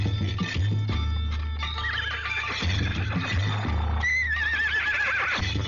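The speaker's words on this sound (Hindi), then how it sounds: "घोड़ा लेके आओ।" A horse whinnies loudly in a rural Indian village scene, its neigh rising near the start and again later, with steady clip-clop of hooves beneath throughout; no talk.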